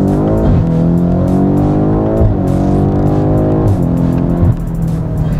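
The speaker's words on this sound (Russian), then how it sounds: "Вторая передача, 70 км в час, попкорн сзади, газ в пол." A Stage 2 tuned sports sedan, an Audi RS6 or BMW M5, accelerates flat out from 70 km/h in second gear, its loud, close engine climbing steeply through repeated upshifts with exhaust pops and crackles between gears.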